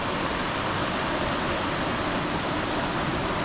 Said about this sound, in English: Here's this beautiful waterfall.